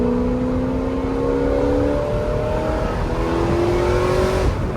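An American V8 stick-shift sports car, a ZR1 or GT350, revs and accelerates hard in second gear, its engine note climbing steadily, loud and close, with no talk over it.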